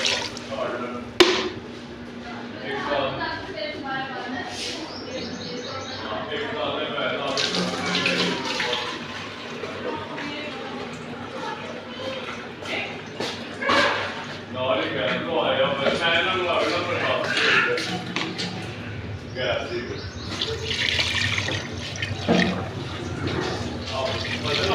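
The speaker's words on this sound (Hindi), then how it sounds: "डालेंगे इसमें पानी," Water poured into a pressure cooker holding tripe already seasoned with cumin and garam masala, a steady splashing rush running throughout with voices nearby.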